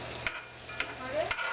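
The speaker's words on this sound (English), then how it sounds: "I'm just going to give it a liberal squirt of lemon juice. And stir it around" Lemon juice being stirred into a New Orleans-style barbecue shrimp sauce in a pan, with a low steady simmer and three soft spoon scrapes spaced about half a second apart.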